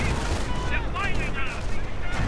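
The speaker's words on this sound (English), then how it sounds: "More artillery against the German lines" Artillery fire in a World War II strategy video game, dense rumbling booms and rapid gunfire bursts layered together, with a voice talking over the battle.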